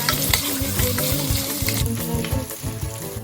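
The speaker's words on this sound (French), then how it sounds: "On verse ensuite nos oignons préalablement découpés et on laisse cuire le tout pendant" Chopped onions cook in a hot pan with a loud, steady sizzle and brisk stirring and scraping close by, with no voices.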